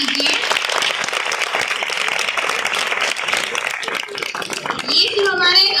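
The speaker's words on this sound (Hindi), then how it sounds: "जिनका आप जोरदार तालियों से स्वागत कीजिए" An audience in a school hall at a career fair applauds to welcome a bank guest, a dense, steady wash of clapping that fills most of the stretch and ends with a few voices rising at the close.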